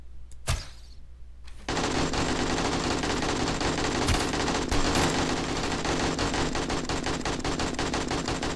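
Rapid automatic gunfire in the video game 7 Days to Die, a loud sustained burst of dense shots after a couple of isolated cracks, continuing steadily to the end.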